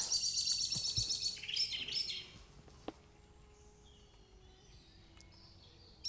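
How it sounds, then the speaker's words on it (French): Bright, busy birdsong of blackbirds and other small birds, loud for the first two seconds, then fading to sparse distant calls over quiet outdoor ambience. "les petits merles, vous en faites du bruit."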